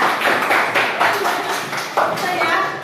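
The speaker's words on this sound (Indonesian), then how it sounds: "Bagus, tepuk tangan buat kalian." Schoolchildren in a classroom lesson clap together in rhythmic bursts of group applause, close and fairly loud, with children's voices mixed in.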